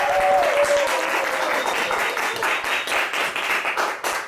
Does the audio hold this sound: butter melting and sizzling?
no